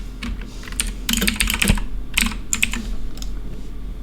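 Fast, irregular clatter of keys on a computer keyboard while C++ code is typed, close and fairly loud, with bursts of quick strokes separated by brief pauses.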